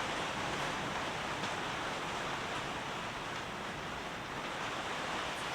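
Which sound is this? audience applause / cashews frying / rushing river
rushing river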